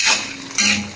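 Chop suey vegetables being stirred in a pan, with close metallic scrapes and clinks of a utensil against cookware in two short bursts.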